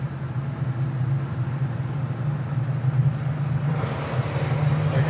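A 1969 Oldsmobile 442 V8 under way on the road, its engine droning loud and steady as the transmission kicks down, a low rumbling roar that grows slightly rougher near the end, heard from inside the car without talk.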